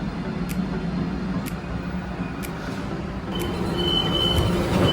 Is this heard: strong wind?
no